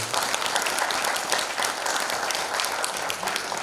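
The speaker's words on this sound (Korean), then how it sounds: "이 신관철 선생님과 그 제자분들께 다시 한번 뜨거운 박수 부탁드리겠습니다" Sustained audience applause at a cultural centre anniversary celebration in Jeongeup, following a traditional performance by a master and his students; dense, steady clapping from a large crowd throughout.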